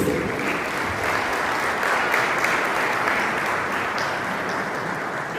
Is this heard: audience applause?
yes